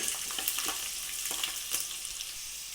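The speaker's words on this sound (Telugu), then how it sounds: "ఈ పోపు వేగిపోయింది" Tempering spices with dried red chillies crackle and sizzle in hot oil, a steady bright hiss with scattered pops and a few stirring scrapes, close by and no talking.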